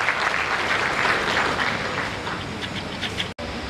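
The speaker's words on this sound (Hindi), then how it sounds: "जोरदार तालियां हितेश भारद्वाज जी के लिए" Loud audience applause in a school auditorium during a traffic awareness week event, steady dense clapping for several seconds with a brief dropout near the end.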